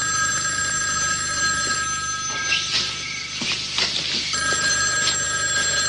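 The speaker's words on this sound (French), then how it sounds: "And you can answer the telephone." A telephone bell rings in a household scene from a soap opera, a loud, continuous electric trill that pulses for several seconds with faint background movement.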